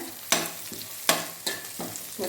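Three dried red chillies fry in a pan for a spinach thoran, a steady sizzle broken by a few sharp scraping stirs at regular intervals, close and clear with no voices.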